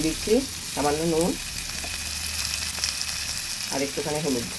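Long strips of potato fry in a pan in oil, a steady broad sizzle running throughout, with brief tonal vocal-like bursts near the start and end rising above it.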